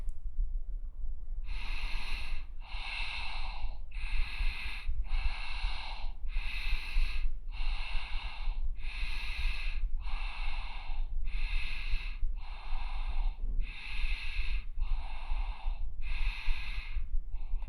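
Rhythmic breathing during a yoga stretching exercise, about a dozen strong, evenly spaced breaths, close and steady over a low background hum, with no talking.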